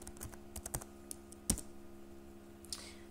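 Fingers tap a computer keyboard in quick, uneven bursts of close, crisp key clicks, with one sharper keystroke midway and a pause before a final few taps.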